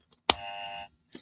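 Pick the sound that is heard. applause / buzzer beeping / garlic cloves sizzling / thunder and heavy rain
buzzer beeping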